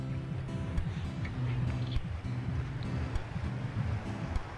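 Wind buffets the microphone in a constant low rumble, with a faint hum and scattered distant sounds beneath it, outdoors in Poblacion, Maasin, Iloilo.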